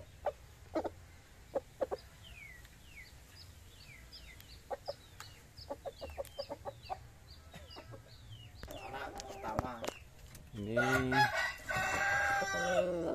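Pakoy batu rantai chickens, a Bangkok cross, cluck in short scattered bursts, then a rooster crows loudly near the end, with faint background noise and a brief spoken word.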